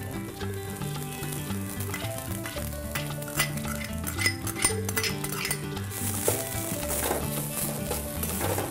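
Ingredients with urad dal and fenugreek sautéed and stirred continuously in a pan: steady sizzling with frequent scraping and clinks of a utensil against the pan, under a continuous tonal background.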